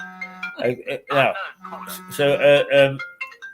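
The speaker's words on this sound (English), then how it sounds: "that's my phone going, by the way." Mobile phone ringing in a TV studio, a repeating electronic ringtone melody mixed in and partly masked by people talking over it.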